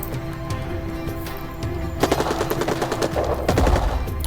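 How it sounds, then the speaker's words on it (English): Rapid bursts of automatic gunfire in the video game Rebel Inc. crackle over a steady background, growing denser and louder in the second half, with sharp overlapping shots. "I hear the gunfire."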